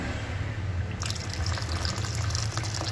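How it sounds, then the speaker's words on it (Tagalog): Hot water poured into a pot of pork sinigang soup, a steady splashing gush that grows brighter partway through and keeps running, close and continuous. "Tapos mag-add lang tayo ng hot water"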